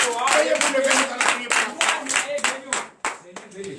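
A church congregation claps during a night prayer and deliverance service, a fast, steady rhythm of many hands close by, mixed with voices calling out and faltering briefly near the end.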